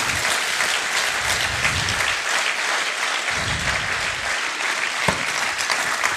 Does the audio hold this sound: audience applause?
yes